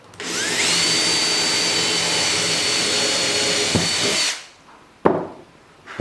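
Power drill boring holes in wooden Langstroth beehive frames in a workshop, a loud steady whine that runs for about four seconds and then cuts off, followed by a couple of sharp knocks.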